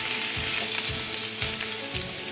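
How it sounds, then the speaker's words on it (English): Drained potatoes and shallots frying in oil in a pan, a dense continuous sizzle up close, with regular scraping stirs of a utensil roughly every half second and no voices. "in with the potatoes after they've been drained, and we're going to fry these off. Then add the shallots, pop them in they go, give this a mix"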